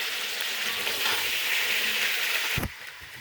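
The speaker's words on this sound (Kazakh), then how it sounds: "Етті 10 минут қуырамыз." Meat fries with garlic and black pepper in a pan for a potato soup, a steady close sizzle with stirring, cut short near the end by a low thump.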